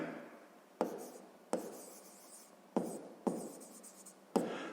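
Pen strokes on paper while a math solution for a sixth-grade proportion exercise is written out, a series of quick scratchy strokes each starting with a sharp touch and fading, close and alone.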